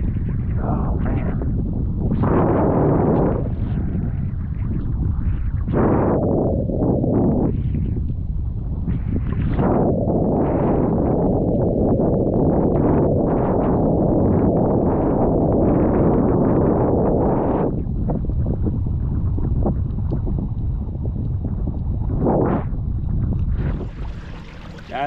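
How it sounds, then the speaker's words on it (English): Strong wind and rain buffet a kayak on rough water, a loud continuous roar of gusting wind noise that surges and dips over about twenty-five seconds. "It's a nasty, windy, rainy day."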